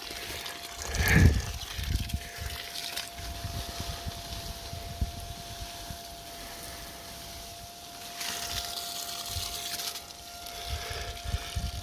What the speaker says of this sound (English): I think got some pretty decent pressure on that little pump.